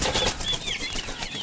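A turkey flaps its wings on a farm, a dense, rapid flurry of feathery beating that runs nearly the whole moment at close range, with no voices.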